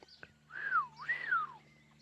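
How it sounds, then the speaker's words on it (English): A person whistles two gliding, rising-and-falling notes outdoors on a farm, clear and fairly close against a quiet background with a faint low hum. "My whistling ain't great today"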